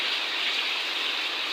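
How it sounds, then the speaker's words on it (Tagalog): Rain falls in a steady, even hiss that stays close and uniform, with no voices over it. "Umuulan po talaga siya."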